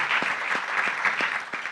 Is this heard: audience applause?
yes